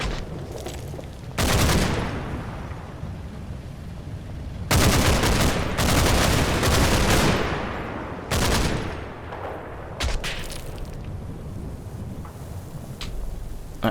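Bursts of machine-gun fire from the WWII combat game Combat Mission: Battle for Normandy, several loud broadband volleys lasting one to three seconds each, separated by quieter gaps of ambient battlefield noise, with no talk.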